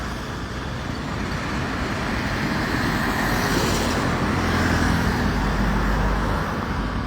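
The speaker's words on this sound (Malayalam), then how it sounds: "ദേ ആ കാറൊക്കെ കണ്ടോട്ടാ വന്നിട്ട് ചവിട്ടി നിർത്തും" Cars come over a bridge approach road on a national highway and brake, heard as a loud, continuous traffic rumble with engines swelling as vehicles pass nearby.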